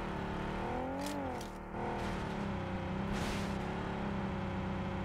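A vehicle engine in BGMI, the mobile battle royale game, hums steadily with a brief pitch dip and rise as it drives. It is moderately loud, and other game sounds are layered over it.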